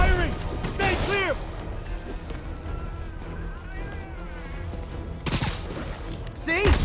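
Gunfire bursts in Marvel's Spider-Man Remastered open and close the passage, loud broadband blasts at the start and again near the end, with game voices and a quieter spell of combat noise in between.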